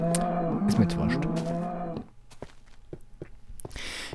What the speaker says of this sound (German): Ach, da läuft doch noch eine Kuh da unten rum.